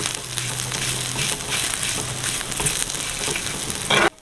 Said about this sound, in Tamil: சீரகம் கொஞ்சம் பொரிக்கட்டும். பொரிஞ்சாத்தான் வாசமும் வரும்.